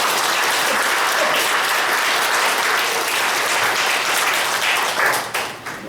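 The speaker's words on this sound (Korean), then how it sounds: "힘찬 박수로 맞습니다" Loud, dense applause from an audience at a founding launch ceremony, many hands clapping steadily and continuously before breaking off into a few scattered claps at the end.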